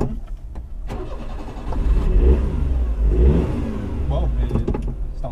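A 1989 Mitsubishi MiniCab kei truck with a carbureted 550cc engine and auto choke cranks and fires up close by, then revs unevenly and settles into a rough, rising idle.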